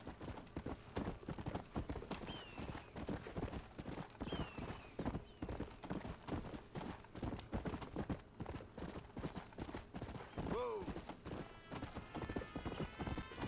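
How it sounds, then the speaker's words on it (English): Steady clip-clop of horse hooves passing by in the town of Blackwater in Red Dead Redemption, a rapid continuous rhythm, with a brief whinny near the end. "Because you just got horses"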